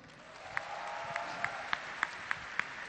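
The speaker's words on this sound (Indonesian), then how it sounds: "Tepuk tangan dong." Audience applause at a live comedy roast show, a continuous moderate wash of clapping punctuated by a few sharper individual claps that stand out roughly every half second.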